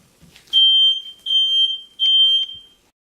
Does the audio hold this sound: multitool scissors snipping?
no